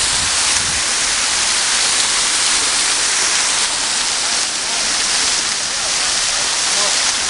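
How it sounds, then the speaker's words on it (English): An artificial waterfall at a theme park in Duhok, Kurdistan roars loud and close as one unbroken hiss of falling water across the whole stretch, with any voices lost beneath it. "I'm here at this waterfall area"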